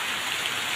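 Steady rain falls around a remote villa in the middle of a forest, a soft, even hiss of drops with no other sounds.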